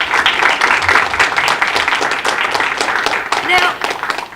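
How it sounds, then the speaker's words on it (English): Audience applause fills a community college and university celebration event, a steady dense wash of clapping that runs the full length at fairly loud level, with no break. "let's give them another round of applause"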